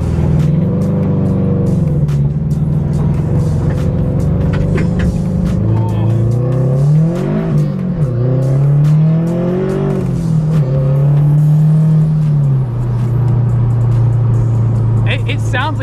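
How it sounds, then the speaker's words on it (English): A turbocharged boxer engine in a Subaru BRZ running on E85 drones loudly and steadily, its pitch rising and falling as it revs through the gears, with a person talking over the engine note. "It sounds like a turbo boxer engine."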